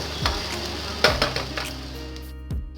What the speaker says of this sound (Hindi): कुकिंग ऑयल मैंने गरम कर लिया है। अब मैं इसमें शामिल कर दूंगी प्याज और ये हरी मिर्चें, जीरा डालूंगी